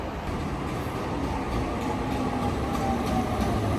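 A tram pulls away with a steady low rumble and rising mechanical hum, continuous and close, no talking.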